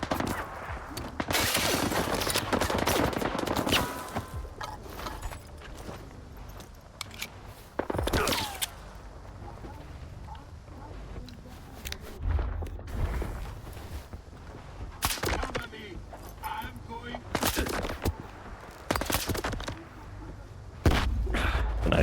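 Gunfire in S.T.A.L.K.E.R. 2: Heart of Chornobyl, irregular sharp bursts and single shots crack out loudly across the stretch, separated by quieter gaps.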